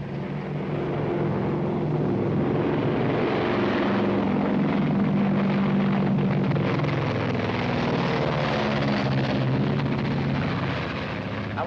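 A propeller airplane flying in a 1930s film scene, a continuous droning engine hum that holds steady and loud for the whole stretch before easing slightly at the end, with no talking.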